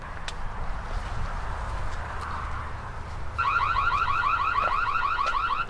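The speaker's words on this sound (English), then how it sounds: "Immediately we came to the steps, the alarm went off." A Reolink Argus 2 home security camera sounds its siren alarm partway through, a loud, rapidly warbling electronic tone that cuts in over faint background noise and keeps going steadily to the end.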